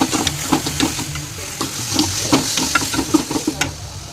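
Steady close sizzle of food frying in a pan with turmeric powder and salt, a spoon scraping and stirring in repeated strokes throughout.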